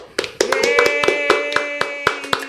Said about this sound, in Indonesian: Kita berikan tepuk tangan yang meriah untuk Kei Mangunsong